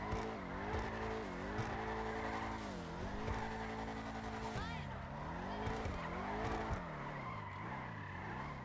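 A Vigero ZX muscle car in GTA Online drifts with its engine roaring continuously, the pitch rising and falling in repeated waves as the tires squeal and scrub through long slides.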